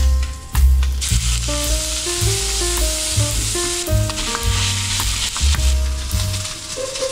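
Spam slices frying in a pan give a loud, continuous crackling sizzle, with background music playing over it and no speech.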